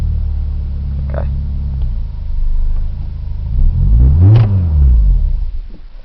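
Car engine running rough on a cold morning, a low uneven idle that rises into a loud revving surge before settling back, close up with no talk.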